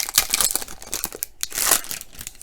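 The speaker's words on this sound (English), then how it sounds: "Let's open some cards." Crinkly foil wrapper of a 2018 Bowman High Tek baseball card pack being torn open, a close, busy run of crackling and ripping for a couple of seconds with no talk.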